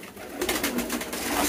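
Pigeons gathering at their feeding spot, soft low cooing in short repeated pulses, fairly close and moderately quiet over light background noise.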